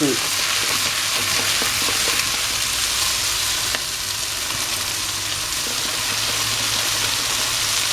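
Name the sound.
food simmering in a pot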